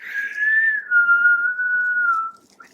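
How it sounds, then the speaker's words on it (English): A single sustained whistled tone, fairly loud and close, holding a steady pitch with a slight dip for a couple of seconds before stopping. "Did I just whistle?"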